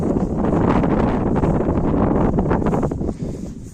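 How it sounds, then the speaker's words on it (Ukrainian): Gusty outdoor wind buffets the microphone in a steady, loud broadband rumble that eases slightly near the end, with no talk. "трохи вітряно"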